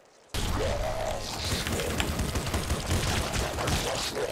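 Continuous dense gunfire and blasts from the top-down shooter video game Nuclear Throne, a busy unbroken wash of rapid shots and impacts starting abruptly and staying loud throughout, with game sound effects layered over it.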